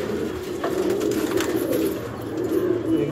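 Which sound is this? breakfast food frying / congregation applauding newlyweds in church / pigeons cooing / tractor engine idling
pigeons cooing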